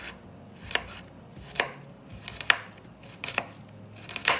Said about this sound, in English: So we're going to cut the onions along the lines.